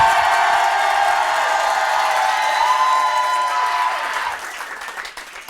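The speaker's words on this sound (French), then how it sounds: "Donc vous criez, vous applaudissez, peu importe, mais il faut que ça fasse un maximum de bruit." A live comedy audience applauds loudly with shouts and whoops in a sustained roar that slowly fades and thins out near the end.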